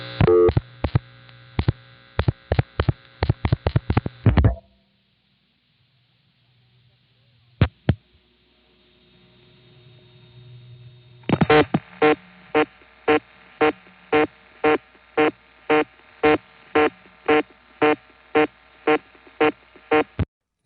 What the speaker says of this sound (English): Now that type of reorder is called CDO reorder